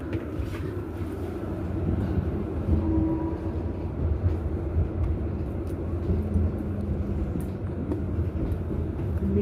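A continuous low rumble and rattle of a moving train, steady and loud throughout with no clear voices.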